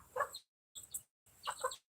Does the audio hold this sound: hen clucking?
yes